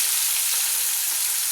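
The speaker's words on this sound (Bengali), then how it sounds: "এবার আমি উল্টে দিচ্ছি অপর সাইড ভেজে নেওয়ার জন্য।" Fish heads frying in oil in a pan, a dense continuous sizzle with fine crackle, close and steady throughout with no voices.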